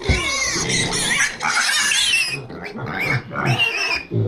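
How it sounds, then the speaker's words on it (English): Half Duroc, half Hampshire pigs grunt and squeal loudly and close by in a barn, shrill overlapping squeals filling the whole stretch with rough grunts underneath. "Pigs do not get along with horses that well."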